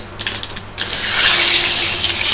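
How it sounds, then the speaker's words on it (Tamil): Mustard seeds splutter and crackle in hot sesame oil, a brief patter of pops then a loud, steady sizzling hiss close by. "கடுகு வெடிக்கிறது"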